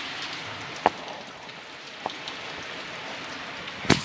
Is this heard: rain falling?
yes